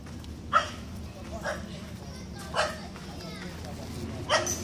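Several dogs bark in short separate bursts at a dog area on Phu Quoc island, about four yips spaced over a few seconds at moderate distance over steady background noise.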